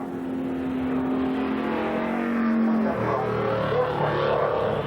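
Stock cars race at Columbus Motor Speedway, a loud, continuous engine roar that holds a steady droning pitch before dropping as cars swing through the turns, with no talking.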